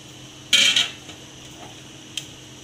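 A metal lid clanks down once onto an idli steaming pot holding cassava puttu, a short bright clatter followed by a faint second tap, with no voices.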